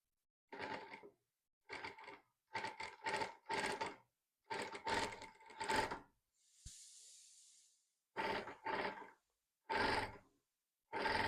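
A sewing machine with a single foot stitches a hand-work neckline, running in short loud bursts of rapid whirring stitches separated by pauses, with one brief hiss in the middle.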